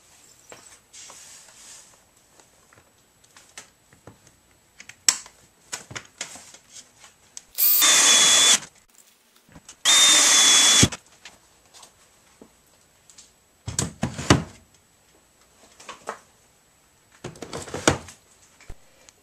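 A power drill drives screws to mount an EGO battery wall bracket: two sustained whirring bursts of about a second each, then shorter ratcheting runs, separated by quiet clicks and handling noise.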